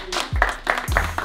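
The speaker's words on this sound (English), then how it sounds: "put your hands together for Harry" A crowd claps and applauds for a magician at a live magic show. The clapping comes as a brief, dense burst.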